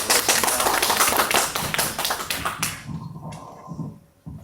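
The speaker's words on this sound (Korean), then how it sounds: "여러분 뜨거운 박수 부탁드립니다." Lecture audience applauding a Korean professor's introduction in a hall, brisk clustered clapping that stops abruptly after about two and a half seconds, leaving quiet room noise and a few stray claps.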